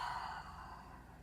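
A single soft, slow exhale of breath during a morning yoga stretch, close and quiet, fading out smoothly with no words spoken.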